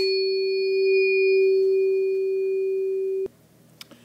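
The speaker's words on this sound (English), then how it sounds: "that was the sound of a tuning fork struck and then moved towards the microphone" A struck tuning fork rings as a steady pure tone with faint overtones, held for about three seconds while moved toward the microphone, then abruptly cut off, leaving faint handling noise.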